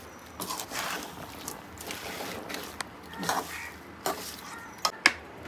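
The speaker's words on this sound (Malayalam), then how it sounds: "ഒന്ന് മിക്സ് ചെയ്യട്ടെ" Small fish being stirred into a masala mixture for a homemade fish pickle, with soft scraping and wet stirring sounds, a few sharper clinks of a utensil against the pan near the end.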